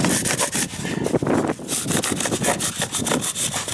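A handsaw cuts flat through sheetrock in a fast, continuous, close-up rasping rhythm of quick back-and-forth strokes.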